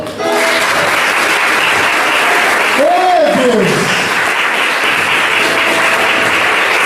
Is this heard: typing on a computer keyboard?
no